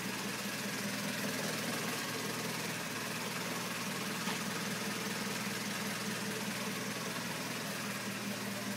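A 1933 Austin 10 engine idles close by, a continuous low rumble with a faint mechanical rattle, unbroken for the whole stretch and with no voices.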